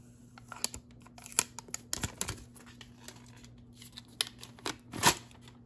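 Packaging being unwrapped from a MacBook Pro charging block: close, quiet crinkling and tearing with sharp irregular bursts, the loudest near the end, with no talk.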